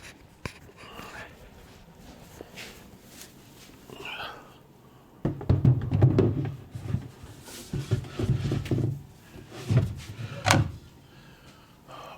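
Wooden curved dovetail drawer being slid in and out of its opening, giving a run of close, rubbing wooden slides and soft knocks after a quieter stretch of faint handling.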